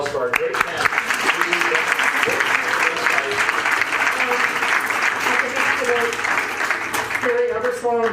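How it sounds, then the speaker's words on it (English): An audience claps for a panel at a post-election wrap-up event held by the Michigan Political History Society; loud, close applause runs throughout while a voice talks over it. "round of applause for our great panel"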